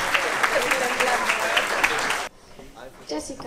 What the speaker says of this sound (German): Nochmal einen großen Applaus für beide Filme,